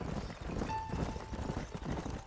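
Horses' hooves clip-clopping in the Western video game Red Dead Redemption, a steady rhythm of hoof falls under a constant ambient bed, with a faint sustained tone running through.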